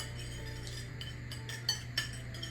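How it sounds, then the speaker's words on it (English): Eggs beaten for an egg wash in a bowl, with a couple of sharp clinks of the whisk against the bowl over a steady low background hum. "we gotta make ourselves a little egg wash here"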